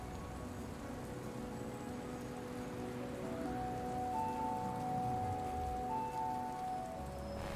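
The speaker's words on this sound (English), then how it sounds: "it is raining outside" Rain falls outside in the video game Bornholm Blues, a soft, steady patter that continues throughout, with faint sustained tones drifting over it and no voices.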